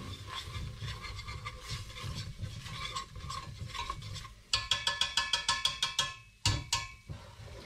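Melted butter and flour stirred in a pan for a béchamel: a soft scraping swirl at first, then a run of quick, rhythmic, close spoon-on-metal scrapes with a brief sizzle, quiet and unaccompanied by talk.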